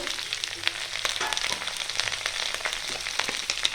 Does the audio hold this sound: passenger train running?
no